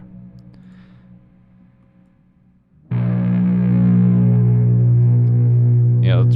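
A guitar through an amp simulation set to a heavy Dual Rectifier distortion tone: a quiet, thin, fading note, then a sudden loud, thick sustained power chord ringing steadily for several seconds, with a brief pick scrape at the end.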